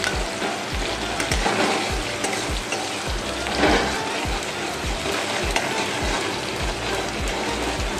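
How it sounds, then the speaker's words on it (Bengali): Sliced onion with a spoonful of salt fries in hot oil for a Bengali katla fish curry with potato, a dense continuous sizzle punctuated by regular scraping knocks of stirring. "এইটুকু পেঁয়াজটা ভাজা হয়ে যাক"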